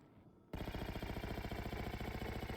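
SMG in a Halo video game opens up after a quiet moment with a loud, continuous rapid-fire burst of evenly spaced shots that runs to the end; no talk.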